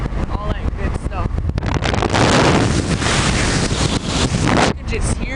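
Strong wind ahead of a storm under a tornado warning, buffeting the microphone in loud, roaring gusts that swell to a peak midway, while people talk briefly at the start and end.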